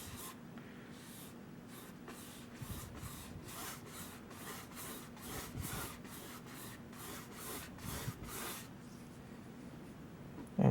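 A brush spreads gesso across a canvas in repeated even strokes, a soft rhythmic scratchy rubbing that is faint and close, with no voices.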